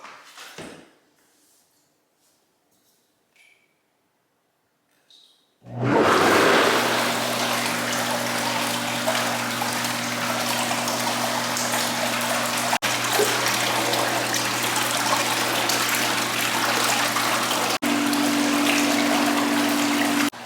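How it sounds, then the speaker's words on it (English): Bathtub jets switch on in a filled tub after five seconds of near silence, giving a loud, steady rush of churning water and a motor hum that runs unbroken to the end. "and then just turn the jets on."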